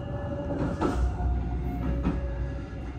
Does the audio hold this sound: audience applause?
no